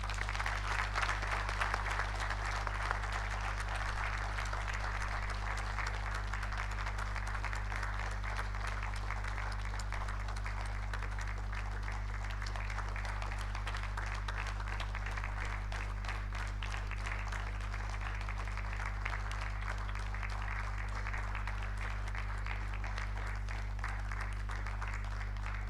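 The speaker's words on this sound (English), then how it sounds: "I would like all of you to give a big hand of applause to them." Steady audience applause fills a conference hall at a solar physics meeting, a sustained wash of clapping lasting throughout, moderately quiet with a constant low hum beneath it.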